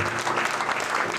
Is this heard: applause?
yes